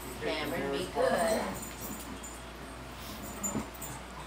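A puppy whimpers briefly with soft, high whines amid nearby talking and background noise.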